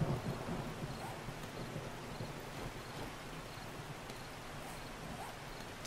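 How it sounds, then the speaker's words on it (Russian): Steady rain in the survival game 7 Days to Die, a soft continuous hiss of moderate level that stays even throughout with no clear voices over it. "еще дождь идет."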